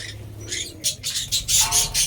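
Pet birds with a cold call in quick, bright bursts, several short chirps in an uneven rhythm, close by over a low background hum.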